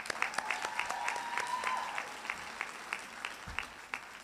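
Audience at a community college graduation ceremony applauding, scattered individual claps spread through a large hall, moderately distant and fairly light, with a faint tone and a low thump partway through.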